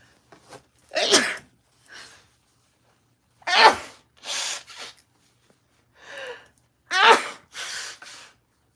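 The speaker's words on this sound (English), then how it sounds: "I've been sneezing a whole lot." Three sharp sneezes, each followed by quieter sniffs or breaths, spaced a few seconds apart and close up, with no talking.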